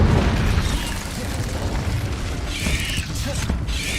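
In the Hogwarts Legacy video game, an Incendio fire spell bursts with a heavy boom and keeps roaring through a continuous fiery rush, with combat effects layered on top.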